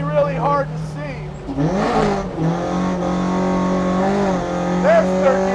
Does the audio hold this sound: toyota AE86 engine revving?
yes